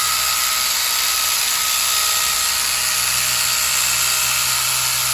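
A battery-powered polisher with a pad working a trashed Mustang wheel, a loud, steady high-pitched whine that holds constant throughout, close up, with no talking.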